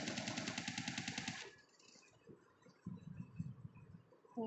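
Gunfire in the video game PUBG Mobile, a loud rapid automatic burst of evenly spaced shots for about a second and a half, followed by fainter scattered shots and game noise.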